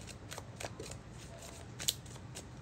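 Tarot cards are shuffled in a quick series of soft riffling bursts, fairly close and quiet, with a faint voice in the background.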